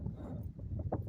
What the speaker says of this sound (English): sorry for the wind. For some reason today it's a very windy day.